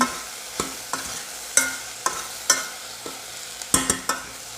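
Chicken breast sautéing in a pan gives a steady sizzle broken by a series of sharp, irregular scrapes and clacks of a utensil stirring the meat, close and clear with no talking.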